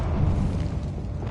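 Bombarda spell explosion in a video game, a short, dense, low-pitched blast rumbling steadily for about a second.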